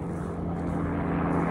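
A helicopter flies directly overhead near woodland outside Moscow, a steady, loud, droning engine and rotor hum that fills the whole moment without a break.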